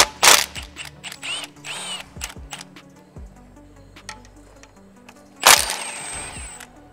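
A hand ratchet clicks in quick runs as 10 mm bolts are loosened on the oil pan of a Nissan 350Z or Infiniti G35 with a DE engine, with sharp metallic clacks and small taps between the bursts.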